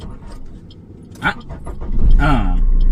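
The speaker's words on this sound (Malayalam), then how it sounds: "ഇപ്പൊ വണ്ടി സ്റ്റാർട്ടായി" During a driving lesson, a car engine is cranked and catches, then settles into a low, steady idle rumble, with voices talking close by just before it starts.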